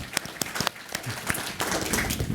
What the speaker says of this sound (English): That deserves some applause,